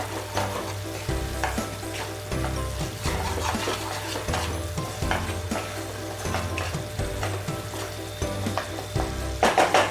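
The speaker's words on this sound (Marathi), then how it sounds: "आणि पुन्हा एकदा याला एकजीव करून घ्या." Scraping and stirring of a spoon through a salted spice masala mixture for stuffed tondali in a pan, with a steady low hum and faint sizzling, repeated scrapes continuing close and moderately quiet.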